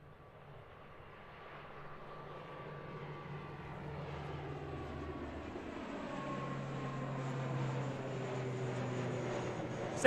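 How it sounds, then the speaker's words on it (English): An ATR turboprop airliner approaches Christchurch Airport at sunrise, its propeller drone and steady engine tones growing gradually louder as it nears, with sliding pitch as it passes. "here's our ATR coming at us as well"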